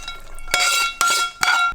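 Pasta tossed with a raw egg mixture in a skillet for carbonara, giving three distinct bursts of clinking, scraping utensil-and-pan noise with short pauses between, close and fairly loud, no talking.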